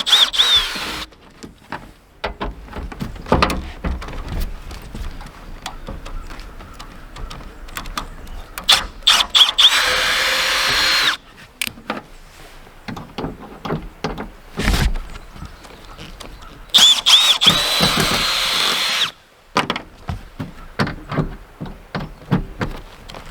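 Power drill working the bolts out of a fan shroud on an old Coleman air conditioner, with repeated short ratcheting and whirring bursts and clanks of metal, irregular and close by.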